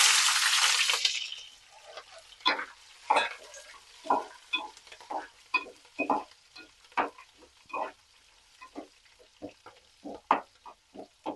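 Eggplant curry cooks in a pan with extra oil, heard as a brief burst of hiss at the start followed by irregular, fairly quiet scraping stirs and soft sputters close by.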